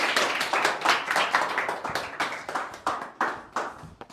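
Clapping from a small group at an English-practice group discussion, a run of sharp, fairly loud hand claps that thins toward the end into a few distinct separate claps.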